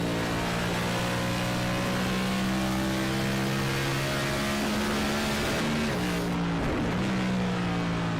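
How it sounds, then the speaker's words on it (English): Stock cars roar around Iowa Speedway during a race, steady loud engine drone with harmonic whine shifting pitch as cars pass, no voices. "this was with Terrell Wheeler in the number 43 shooting through the middle"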